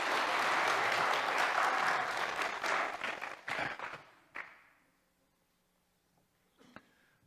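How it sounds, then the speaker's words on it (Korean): Congregation applause during a Sunday church service, a dense sustained clapping that fills the room for several seconds, then thins into scattered claps and fades to near silence, with a faint thump near the end. "박수"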